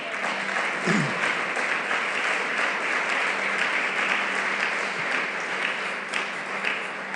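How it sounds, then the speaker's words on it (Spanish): Loud, sustained applause from a church congregation, a thick continuous roar of many hands clapping together at an even level throughout, with a faint tonal hum underneath. "¿Cuánto le dan un aplauso al Señor fuerte?"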